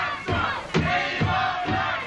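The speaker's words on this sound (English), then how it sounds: "you can hear the crowd picking up the chant, "We want Armstrong."" A wrestling arena crowd chants in unison, a rhythmic repeated roar of many voices with steady beats roughly every half second, loud and reverberant.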